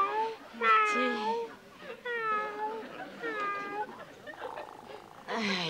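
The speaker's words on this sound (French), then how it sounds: "Il est gentil, le chat." A cat meows close by, giving four or five drawn-out, fairly loud meows in a row with short pauses between them.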